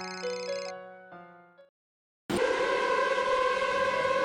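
A phone ringing, a melodic electronic tone sequence that stops, followed after a short silence by a loud, sustained siren-like tone that continues to the end.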